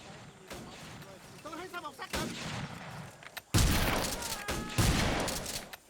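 Gunfire from a video game battle set in Indochina during a rice field operation, with loud shots bursting in midway and continuing in heavy bursts, after a stretch of quieter sound where a voice speaks.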